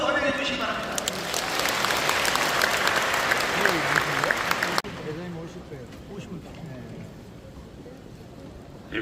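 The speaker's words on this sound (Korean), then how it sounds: "김종혁 목사님께서 기념사를 전해주실 텐데 여러분 따뜻한 박수로 환영해 주시기 바랍니다." A congregation gives warm applause at a Korean Christian 140th anniversary commemorative service, dense clapping for about five seconds that cuts off abruptly, followed by quieter room sound with faint voices.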